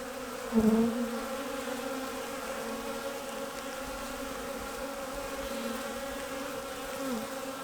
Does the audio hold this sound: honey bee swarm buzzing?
yes